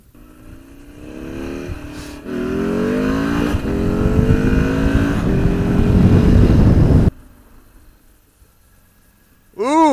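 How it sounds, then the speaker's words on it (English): Passing cars and engines on busy Route 7 heard from a motorcycle, with rising and falling engine tones and revving under steady road noise, ending abruptly before a brief burst of another engine. "traffic's just always a bitch."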